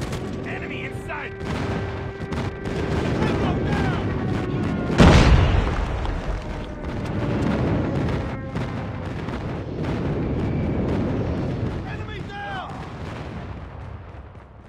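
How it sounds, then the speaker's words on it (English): Airstrike explosions in the mobile shooter Call of Duty Mobile, a heavy boom near the middle followed by rolling rumbles and scattered gunfire throughout, with in-game voice callouts layered over the battle. "Friendly airstrike incoming."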